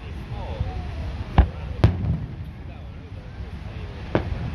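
Fourth of July fireworks at Redondo Beach go off at a distance, a few sharp separated bangs over steady outdoor wind and crowd noise, with people talking nearby.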